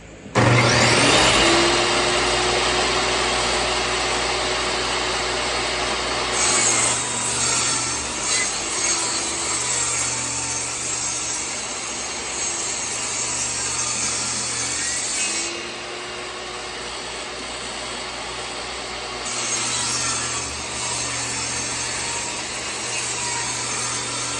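A power saw cuts wood boards for a kitchen pantry, a loud continuous whine and rasp held close for over twenty seconds with slight shifts in pitch and load as the blade moves through the material.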